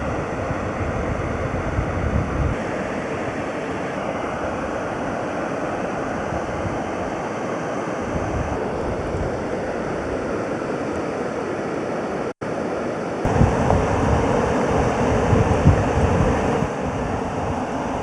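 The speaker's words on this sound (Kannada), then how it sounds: "ಈ ಮಲ್ಲಳ್ಳಿ ಜಲಪಾತ ನಿಜಕ್ಕೂ ಅದ್ಭುತ" Roaring rush of Mallalli waterfall in the rainy Shanthalli area of Somwarpet taluk, a steady broadband wash of falling water with wind buffeting, continuous and fairly loud, with a brief dropout midway.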